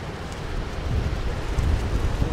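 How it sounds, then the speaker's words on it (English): Strong wind gusts buffet across a Spanish beach, a rough, rumbling roar of moving air that swells and surges steadily, with no voices heard. "Really windy today."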